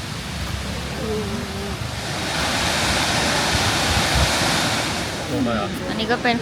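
Steady roar of a waterfall along a steep mountain road near Lam Takhong, a broad constant rush close to the microphone, with a person speaking faintly over it toward the end.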